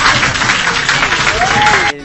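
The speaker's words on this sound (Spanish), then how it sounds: "hacen un aplauso muy enorme, muy gratificante" Students in a classroom applaud their teacher, a loud, dense burst of clapping with some voices mixed in, running steadily for about two seconds before cutting off abruptly.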